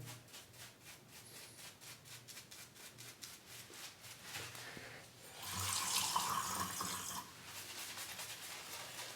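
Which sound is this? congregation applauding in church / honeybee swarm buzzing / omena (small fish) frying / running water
running water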